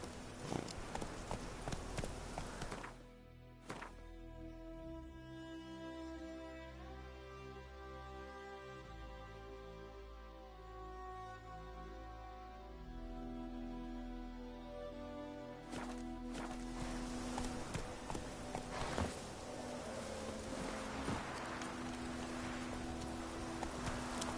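Roach the horse in The Witcher, hooves clip-clopping at a steady trotting rhythm through the opening seconds and again toward the end, with a quieter, tonal stretch in between.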